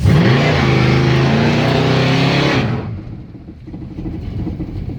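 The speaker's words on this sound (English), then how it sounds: "when you give it gas, you don't want to just lightly power brake it. You want to really" A car doing a burnout while power braking gives a loud, close engine roar that holds high for a few seconds, then cuts off abruptly, leaving lower rumbling and tire noise.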